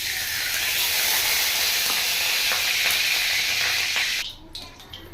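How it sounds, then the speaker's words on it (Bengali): Oil poured into a hot wok (kadai) for a prawn and taro-leaf dish, a loud, close, hissing sizzle that holds for about four seconds and then drops off sharply to a quieter fizz. "আর এখন আমি কড়াইতে তেল দেব"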